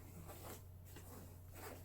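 A small zipper pouch being unzipped, a short close scratchy run of zipper teeth lasting under two seconds, heard on its own.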